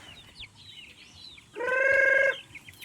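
A chicken gives a loud, sustained harmonic call lasting under a second, with faint bird chirps and quiet outdoor background before it.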